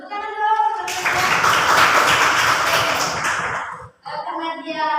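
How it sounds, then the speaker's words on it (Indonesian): Children in a classroom clap together in a loud, dense burst lasting about three seconds, with a teacher's voice speaking before and after it. "Tepuk tangan dong."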